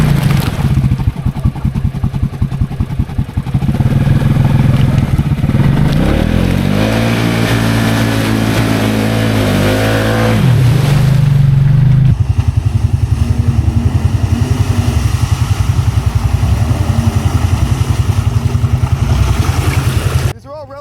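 A Pioneer side-by-side on stock XMR 700 tires spins through slippery clay mud, its engine roaring loud and close with revs climbing and dropping, clattering over the ground while people shout over it.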